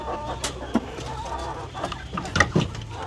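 White Leghorn hens in battery cages cluck in short, scattered bursts against a quiet farmyard background, a few calls sounding nearby.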